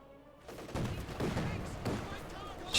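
Machine gun bursts and mortar fire from a Company of Heroes 2 multiplayer battle, repeated loud thumps and crackling shots in quick succession, with a commentator's voice running over the combat.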